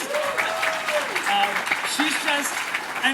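Audience applause at a spring brunch program, moderate clapping that runs throughout, with other voices and tonal sounds mixed in over it.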